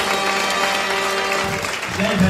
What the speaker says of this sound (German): Euer Beifall für Misha Busche, Jürgen Schaaf, Detlef Beutler.